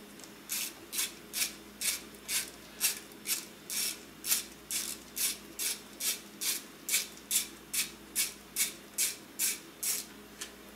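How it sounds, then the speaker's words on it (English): Ratcheting a T25 driver to remove a bolt on a 2001–2008 Volvo during an A/C compressor swap: about twenty evenly spaced ratchet clicks in a steady rhythm, close and fairly quiet. "And I am going to get a T25, and we'll go ahead and remove this bolt right here."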